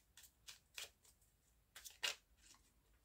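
A deck of oracle cards being shuffled by hand, a series of quiet crisp riffling bursts at uneven intervals, close and soft in a quiet room.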